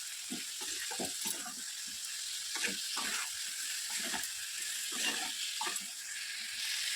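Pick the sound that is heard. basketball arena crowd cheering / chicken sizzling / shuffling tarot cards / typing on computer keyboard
chicken sizzling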